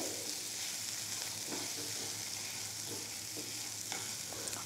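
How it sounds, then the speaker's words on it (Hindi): Mashed potato stuffing is stirred over low heat in a pan, with a steady sizzle and frying hiss under intermittent soft scraping of the spoon. "अब हम इन सभी चीज़ों को मिक्स करेंगे"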